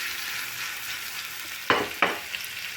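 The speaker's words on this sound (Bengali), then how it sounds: "এখন মশলা মেখে রাখা মাছগুলো দিয়ে দেব। বন্ধুরা আমি একটু এভাবে নাড়িয়ে দেব।" Spice-coated fish fries in hot oil with a constant hissing sizzle, then two sharp scraping clatters of a utensil stirring the pan near the end, close-up and without speech.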